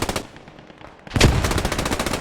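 MG42 machine gun fire in a multiplayer shooter match, a long sustained automatic burst erupting loud and close after a quieter stretch, rapid evenly spaced shots rattling on without pause.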